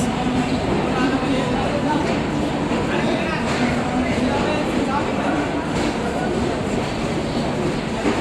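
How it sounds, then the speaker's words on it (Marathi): Haridwar Express standing at Bandra Terminus station, with a dense, steady rumble of train and platform noise and faint rhythmic clatter running throughout. "आमची ट्रेन लागलेली आहे हरिद्वार एक्सप्रेस"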